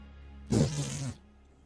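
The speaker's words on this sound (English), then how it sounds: "I didn't know robots could fart." A single short buzzing fart-like blurt of about half a second, close and moderately loud, made for a robot puppet in a puppet show.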